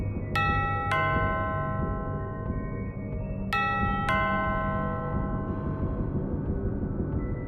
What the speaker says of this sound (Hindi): साथ ही कानों में डोरबेल की आवाज़